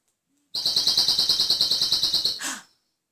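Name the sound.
bird call whistle imitating birds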